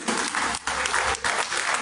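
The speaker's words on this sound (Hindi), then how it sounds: "जोरदार तालियों से" Dense applause from an audience at a Hindi-language general body meeting, loud and continuous, with two short dips in intensity before resuming as a steady wash of clapping.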